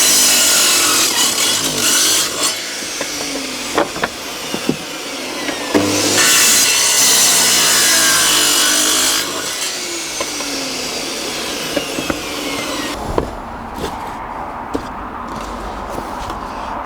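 Power saw cutting through wooden boards stacked about three at a time, a loud sustained buzzing whine with short breaks and pitch shifts as the blade bites and eases off, no talking.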